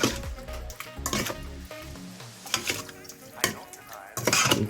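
A spoon stirs venison stew in a pot, giving a few scraping, clinking strokes and bursts of motion between quieter stretches, close and moderately loud.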